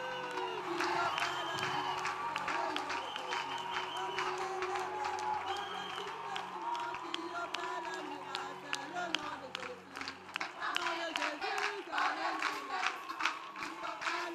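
A church congregation at a French-language prayer and intercession gathering cheers and claps in acclamation, a dense crowd roar with scattered handclaps and shouted voices and a steady hum underneath, sustained throughout.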